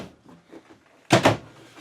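A hardwood cabinet silverware drawer in a motor coach slides open with a short, loud wooden rumble and clack near the end, after a stretch of faint rustling.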